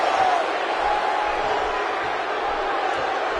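Arena crowd in a wrestling video game roaring steadily throughout, a dense wash of cheering and shouting with a few whoops rising above it, loud and continuous with no pauses.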